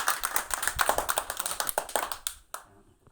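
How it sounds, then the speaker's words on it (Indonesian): A classroom of students claps for group two, a quick, fairly close burst of hand claps in an uneven rhythm that thins out and stops after about two and a half seconds. "Sekali lagi tepuk tangan untuk kelompok dua."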